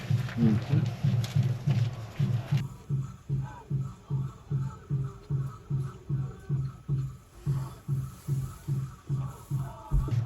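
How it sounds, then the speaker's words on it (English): A steady, thumping low drumbeat pulses rhythmically at a moderate tempo, muffled as if from another room, with faint background noise, heard at night from a van in Sedona. "You can probably hear the drums."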